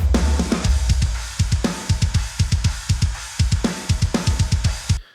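Mixed metal drum kit with parallel compression blended in: rapid, punchy kick and snare hits in a driving, steady rhythm, loud and dense with bright cymbal wash over the top, no voices.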